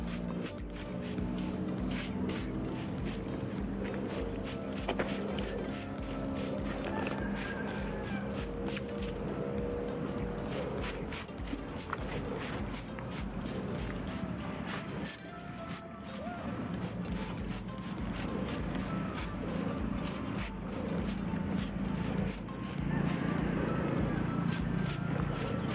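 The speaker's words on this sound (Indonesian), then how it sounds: "saya selesaikan dulu untuk melakukan penyemprotan" A hand sprayer mists insecticide onto eggplant plants in a capillary-irrigated garden, producing a steady hiss with rapid rhythmic clicking from pumping across the whole stretch, fairly loud and continuous.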